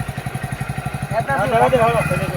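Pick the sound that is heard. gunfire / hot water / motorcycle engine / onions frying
motorcycle engine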